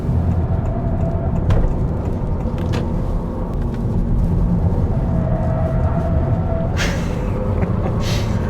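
A 2022 Honda Civic driven through a few corners: a steady low engine and road rumble from inside the cabin, with faint tyre and wind noise and a couple of brief brighter swells near the end.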